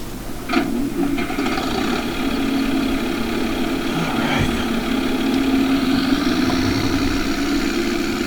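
A John Deere 4020 tractor idles with a steady, close diesel rumble and a few faint clanks, running alone with no talk.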